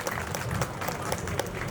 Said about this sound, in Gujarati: અમારા અમર ભારતી બાપુને જોરદાર તાળીના ગડગડાટથી વધાવી લે છે